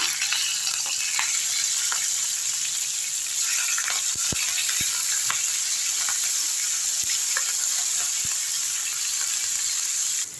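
Vanjiram seer fish frying in oil in a pan, a loud, continuous close-up sizzle with scattered crackles and pops throughout.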